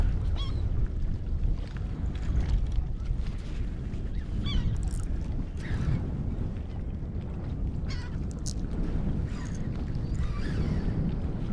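A big flock of birds honking and calling in a coastal marsh, dense overlapping goose-like cries continuing throughout, near and loud with no talk.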